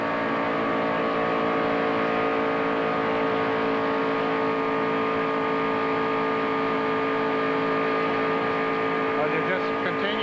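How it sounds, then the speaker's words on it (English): A NASCAR race car engine roars at the 1993 Daytona 500, a loud, sustained, steady high-revving drone with strong tonal harmonics that holds throughout, with a commentator talking over it. "Listen to the motor in this thing."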